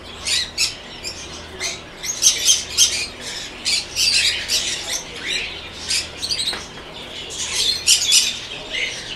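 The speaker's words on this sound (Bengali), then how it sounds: "এটা হলো কোয়েল পাখি" Quail at a bird market in Saudi Arabia give repeated sharp, shrill squawking calls in bursts, loud and close, with market clatter in between and no talking.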